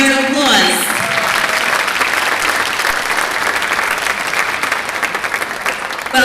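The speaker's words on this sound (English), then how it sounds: "Please give them another round of applause." Sustained applause from a spring concert audience, loud and dense throughout, with a brief tonal musical fade at the start before the clapping fills the hall.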